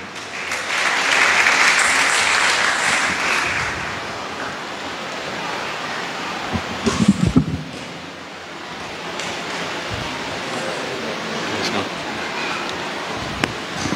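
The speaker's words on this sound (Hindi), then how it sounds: "बहुत सी तालियां।" A congregation at a Mass in St. Anthony's Parish, Lahore, breaks into sustained applause for several seconds, a dense rain-like clapping that then fades into quieter room murmur with a few scattered claps.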